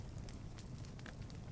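Stones burn in a fire in the video game Little Inferno, giving a steady close crackling roar with scattered sharp pops and snaps throughout.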